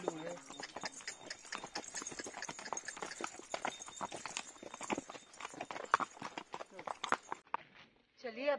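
Horse hooves clip-clop steadily and close during a horse ride in Nainital, a rapid run of sharp knocks that continues under people talking and stops near the end.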